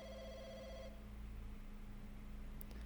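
A public market telephone gives a short burst of ringing at the start, then falls silent over a steady low hum and faint background noise.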